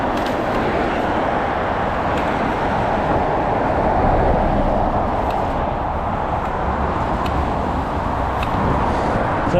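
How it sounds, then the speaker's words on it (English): A London Underground District line train rumbles past at steady volume for the whole stretch, a continuous broadband roar with faint clicks of wheels over track. "So that's the next of the district line trains."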